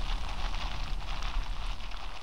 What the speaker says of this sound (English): Oh, I think the rain's stopping.